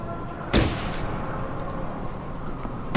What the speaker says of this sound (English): I don't like the amount of shots I'm taking